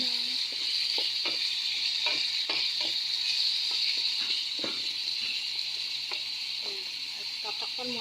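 Squash with onion and ginger is stirred in a sizzling pan for home-style vegetables, a steady hiss of frying under repeated scraping strokes of the spoon, close and continuous.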